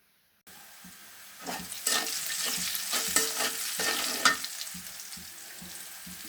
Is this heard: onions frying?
yes